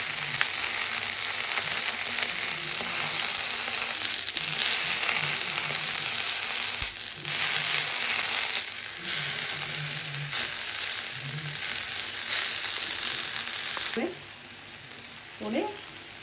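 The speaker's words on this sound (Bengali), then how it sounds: "ভেজে দিচ্ছি।" Prawns with a little turmeric fry in a pan for Bengali chingri paturi, giving a loud, continuous close sizzle. Occasional scraping stir strokes and a few brief clatters come late as the sizzle drops slightly.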